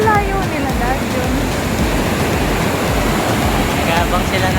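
Ocean waves roll onto a beach in a steady, loud, continuous wash of surf, with faint voices briefly audible early on.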